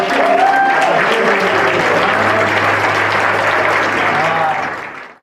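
Church congregation applauding in a Spanish-language service, a dense, loud clapping wash with a brief voice at the start, fading out near the end.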